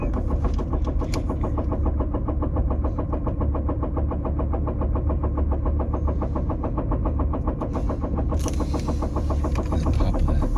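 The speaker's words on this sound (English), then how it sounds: "That's the idling noise now." A car engine idles steadily and close by, a continuous low throbbing rumble that stays even throughout, with a brief brighter rise in the noise near the end.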